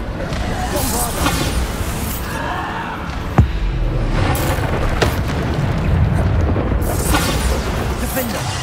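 Bombarda spell blasts go off in Hogwarts Legacy during a busy fight, heavy booms mixed with constant combat noise and one sharp bang standing out in the middle, while a voice talks over the action.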